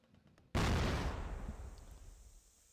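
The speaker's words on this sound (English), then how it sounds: "we do have some nades thrown" A single heavy grenade blast erupts in a CrossFire match, a sudden loud boom that rolls off into a fading rumble over about two seconds.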